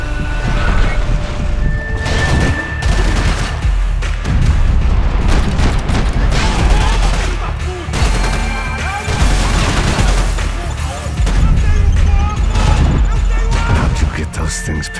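Grenade blasts and gunfire from the video game Max Payne 3, a dense, loud barrage of booms and shots running the whole stretch with heavy low rumble, mixed with talk.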